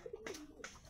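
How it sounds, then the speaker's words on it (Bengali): A male Shahjahanpuri cross breeding pigeon gives a soft, close coo of a few short throaty notes, faint and alone. "ছেলে পায়রাটা শাহজাহানপুরি ক্রস।"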